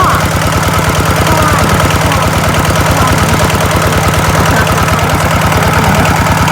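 A small engine-driven water pump runs steadily at a fast idle while watering a vegetable garden, its loud, even chugging pulse and rattle continuing throughout with no pauses or talk.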